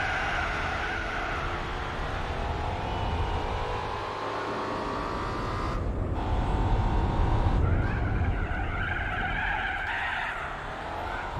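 A car on sports tyres slides through a handbrake turn in Gran Turismo 4, tyres squealing in a long rising and falling screech over a steady engine roar, sustained and close.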